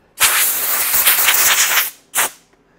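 A loud close burst of compressed air hissing for nearly two seconds, followed by a second short blast.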